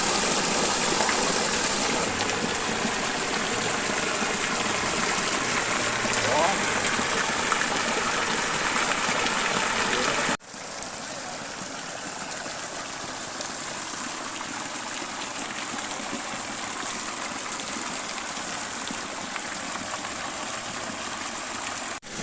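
Water rushing steadily at Curug Ciheulang waterfall, a loud, continuous broadband gush close by that drops to a slightly softer, steady flow partway through, with no voices.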